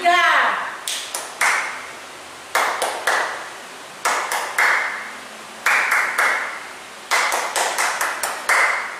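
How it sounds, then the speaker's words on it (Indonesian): Kindergarten children perform a tepuk gemuruh rhythmic clapping routine, bursts of sharp claps in patterned groups separated by short pauses, each group ending in a ringing tone, with the pattern repeated several times. "kita akan tepuk gemuruh. Ya, 1, 2, 3."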